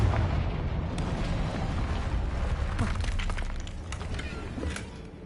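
Confringo fire spell blasting debris apart in Hogwarts Legacy on PS5, a loud rumbling burst with crackling breaking and shattering fragments that trail off over several seconds.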